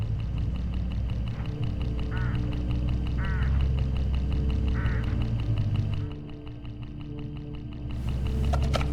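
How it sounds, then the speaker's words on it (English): Hooded crows call in the video game HitchHiker, a few short harsh caws standing out over a steady ambient game background of low hum and music. "Look, hooded crows all along this road."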